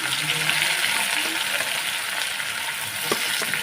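Garlic, onion and ginger paste fries in hot oil for a soyabean kasha curry, giving a steady close sizzle with occasional scrapes of a spoon, loud and continuous with no talking.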